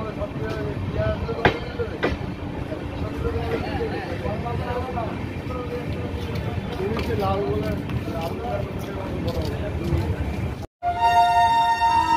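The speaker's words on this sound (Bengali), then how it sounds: "পায়রাডাঙ্গা এখনো দাঁড়িয়ে পড়েছিল বন্ধুরা ট্রেন।" A train standing at Payradanga station, with a continuous rumbling and mechanical hum, scattered clanks and voices of people talking around it, ending after a brief cut in a tonal whine.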